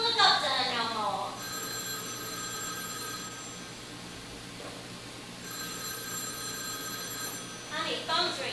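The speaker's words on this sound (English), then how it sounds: "phone's ringing." A telephone bell rings in two long bursts with a pause between, clear and fairly close, while people talk before and after the rings.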